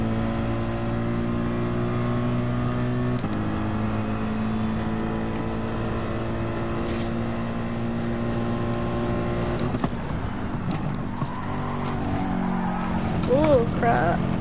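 A Mercedes race car engine drones steadily at high revs during a Gran Turismo 7 time trial, shifting pitch around a gear change and dipping near the end.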